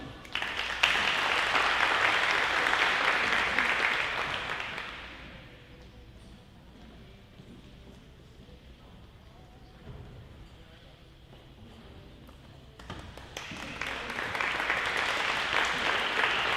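Loud audience applause at a high school athletics banquet fills the opening seconds, fades to a quieter lull, then swells again into a strong burst of clapping near the end.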